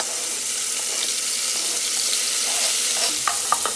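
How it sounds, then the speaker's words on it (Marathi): Chopped tomatoes and onion frying in a pan for Goan sausage pulao, giving a steady hissing sizzle with a few soft clicks and stirring knocks toward the end, without any voices. "मातशें फ्राय जावं दिया."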